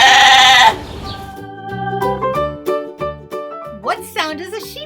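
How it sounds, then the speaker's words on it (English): A sheep bleats, a short wavering animal call that follows a burst of noise, with bright children's-song style music playing alongside throughout. "What sound does a sheep make? Bah!"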